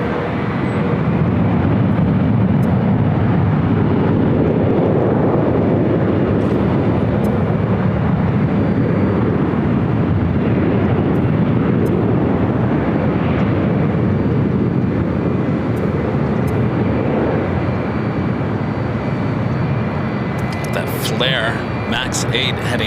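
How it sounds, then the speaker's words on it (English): A Boeing 737 Max 8 jet takes off at LAX with a loud, sustained broadband engine roar that holds steady throughout, with faint clicks and a brief higher-pitched sound near the end. "Max 8 heading up here for a north side takeoff"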